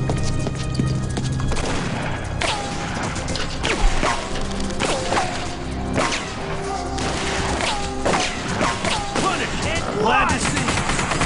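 Rapid gunfire bursts crack repeatedly across the scene in The Punisher video game, loud and close, with sharp shots layered over a busy game soundtrack.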